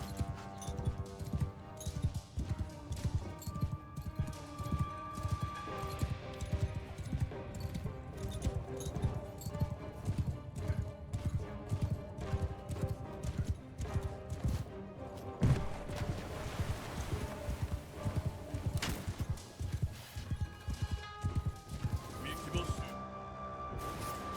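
Hooves of horse archers clatter in the samurai strategy video game Shokuho, a busy, rapid clip-clop mixed with battle noise, running steadily under someone talking.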